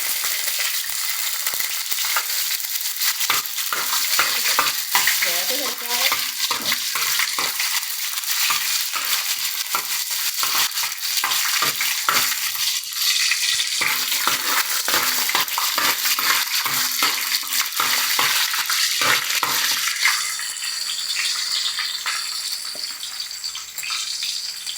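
Shallots fry in a pan with a steady loud sizzle and occasional clinks and stirring scrapes from a utensil, with no voices.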